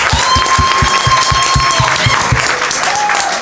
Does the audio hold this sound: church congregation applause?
yes